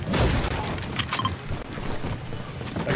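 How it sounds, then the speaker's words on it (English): Gunfire in the video game Fortnite, heard out in open fields, comes as a dense run of loud, rough bursts and thuds that carry through the whole stretch, with no clear voices over them. "Yeah, we got gunfire out in the fields."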